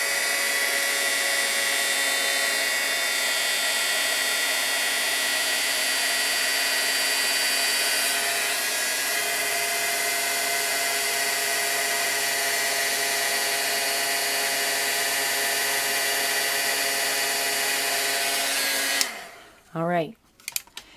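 An electric heat tool blows steadily for about nineteen seconds, melting embossing powder on a stamped card, a loud even whooshing hum that cuts off near the end, followed by a few brief clicks and handling sounds.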